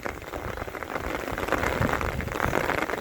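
Heavy rain pours down on a village whose market streets are flooded by an overflowing river. The downpour is a dense, steady hiss of drops that grows slightly louder and never lets up, with no voices.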